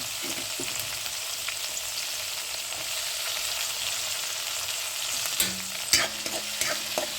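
Dal with chickpea greens sautéing in a pan, an even sizzle throughout with occasional light stirring scrapes and a couple of louder clinks near the end, close and alone.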